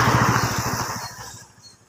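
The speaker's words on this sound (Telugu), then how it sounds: "ఒక బైక్ వెళ్ళిపోయింది ఇక్కడ" A motorcycle rides past on a wide, empty road in Hyderabad, its engine a close, buzzing drone that gradually fades as it moves away.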